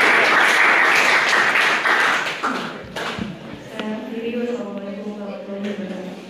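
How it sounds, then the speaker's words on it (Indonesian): A lecture audience in a university Pancasila education class applauds a speaker with a brief burst of dense clapping. It fades after about two seconds as a voice starts talking. "aplaus buat beliau, terima kasih"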